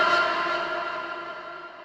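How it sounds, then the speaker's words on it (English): A vocal shout soaked in Waves H-Reverb trails off as a long, smooth, washy reverb tail that fades steadily and stands alone. "So on the vocal shout, it already has the H-Reverb on it."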